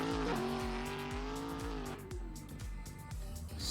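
A BMW E21 drifts around a race track, its engine revving high and dropping in rapid gear-change steps while tires squeal, loud and sustained, with no talk.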